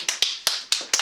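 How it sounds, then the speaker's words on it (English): Five sharp, separate hand claps in an uneven rhythm come from close by at a Toastmasters club meeting, with no talking over them. "Let's give her a big round of applause."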